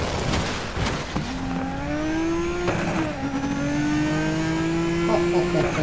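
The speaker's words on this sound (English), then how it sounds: "See, that engine note is like perfect." A car engine in Need for Speed Most Wanted revs and climbs steadily in pitch after a few sharp pops, a sustained loud whine that holds and shifts slightly under occasional talk.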